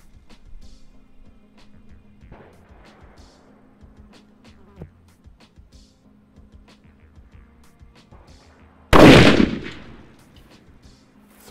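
A single loud sniper rifle shot rings out during a training session, sharp and broadband with a decaying tail, following a long stretch of quiet outdoor ambience and faint shuffling.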